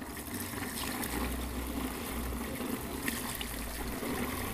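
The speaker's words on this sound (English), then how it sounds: "here's the brine, and it's cooled off now. So we'll simply pour it in." Cooled brine pouring into a pot for deep-fried turkey, a steady, fairly loud trickling splash of liquid lasting several seconds, with no talk.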